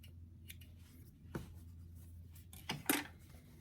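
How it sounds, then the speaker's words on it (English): Scissors trim loose threads from a sewn garment, a few quiet, crisp snips in near silence, with the sharpest cuts close together near the end. "I'm just going to trim some of these threads"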